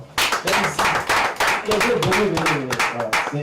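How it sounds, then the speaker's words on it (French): An audience at a music event claps in bursts, close and fairly loud, with voices talking over the clapping. "On peut encore applaudir."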